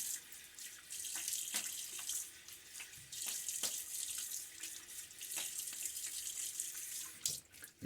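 Tap water runs steadily from a faucet into a sink during a wet shave rinse, with a bright, continuous hiss broken by a few louder splashes as hands or a razor pass under the stream.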